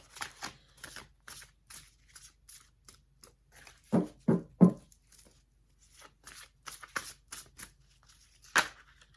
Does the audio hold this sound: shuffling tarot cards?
yes